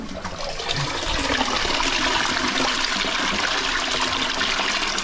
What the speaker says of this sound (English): Can you flush that button because you've got clean hands?